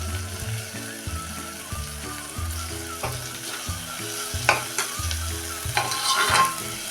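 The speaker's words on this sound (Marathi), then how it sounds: "हे पण आता असं मिनिटभर परतूया" Fresh coriander and peas stir-fry in hot oil with ginger and garlic for matar pulao, a steady close sizzle broken by rhythmic scraping strokes of a spatula against the pan, without any talking.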